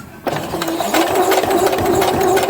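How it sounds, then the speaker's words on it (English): A sewing machine stitches a welder's cap, a steady mid-pitched motor whir with rapid needle chatter starting abruptly and running continuously, loud and close. "You roll this hat right around your machine base as you sew."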